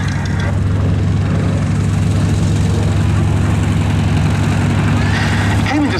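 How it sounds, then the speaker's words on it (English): Propeller aeroplane powered by a 2100-horsepower Pratt & Whitney Double Wasp engine, a loud, steady droning roar held for the whole stretch without letup. "a small airframe with a big engine, the 2100 horsepower Pratt & Whitney Double Wasp, which powers this aeroplane to a top speed in excess of 420 miles an hour"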